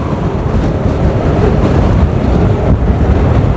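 Strong wind blasts steadily across the microphone outdoors at a dive site, a loud, unbroken roar of rumbling gusts throughout with no speech.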